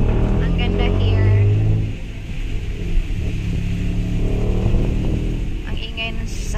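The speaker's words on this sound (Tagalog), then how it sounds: "Ang ingay ng sasakyan." Steady low road rumble from a jeep and passing traffic fills the background, loudest early on and then settling, while people talk over it.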